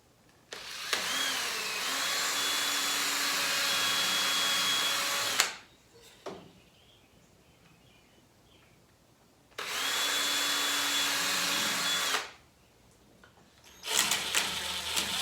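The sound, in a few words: power drill drilling a hole deeper in trellis wood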